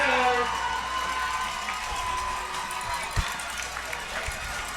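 A crowd at a high school football game between Sprayberry and River Ridge roars steadily in the distance on a third-and-one play, with a brief thump near the middle and talk mixed in.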